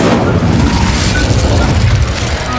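An Incendio fire spell erupts in Hogwarts Legacy as a loud, close whooshing blast, booming and crackling for a couple of seconds before easing slightly toward the end.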